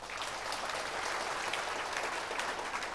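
An audience claps loudly and continuously, a dense, even wash of applause that holds at the same level from start to finish.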